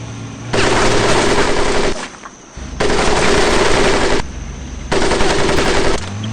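Loud, close machine gun fire from the Medal of Honor: Pacific Assault game rattles in three long sustained bursts separated by short pauses.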